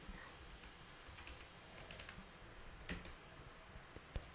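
Light, quick keystrokes on a computer keyboard, entering a transporter name into accounting software, sound close but faint against quiet room tone, with a few sharper taps near the end.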